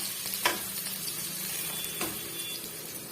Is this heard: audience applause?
no